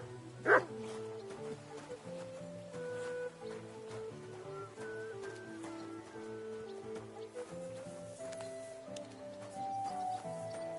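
Dog barking in the medieval open-world game Kingdom Come Deliverance 2, one sharp bark early on above a steady bed of game music.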